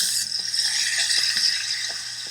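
Pork chops seasoned with salt and pepper sizzling in a hot pan, a bright steady frying hiss with a low hum and a few soft taps of utensils against the pan.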